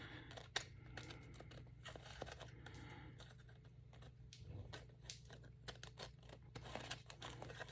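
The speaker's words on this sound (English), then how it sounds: "I'm just going to cut it pretty close." Scissors snipping tissue paper along the edge of a journal cover, a quiet irregular series of small cuts and crinkles close to the microphone over a low steady hum.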